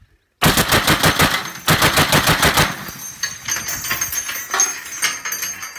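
.50 caliber machine gun fired at a ranch range, two loud sustained bursts of rapid thudding shots close by, followed by fainter scattered echoes and rumbling.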